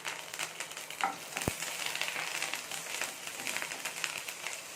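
Curry leaves, chopped green chilli and cumin sizzle steadily in hot oil, a dense continuous crackle with faint scraping and one sharp tap near the start, no talking.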